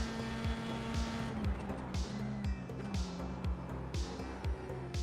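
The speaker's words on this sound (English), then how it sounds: "Quick downshifts here again." A race car in a racing video game makes a series of quick downshifts, its engine note dropping and blipping in rapid repeated steps over a continuous close engine drone.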